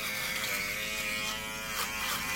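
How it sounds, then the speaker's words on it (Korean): A Daiso electric shaver runs continuously at close range, a steady high buzzing drone with slight shifts as it moves over the face, heard alone without speech. "깔끔은 해야 되니까 면도는 하겠습니다."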